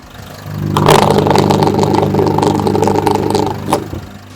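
Isuzu D-Max 1.9 Ddi diesel pickup engine running close up, a loud steady diesel clatter with a brief rev near the end.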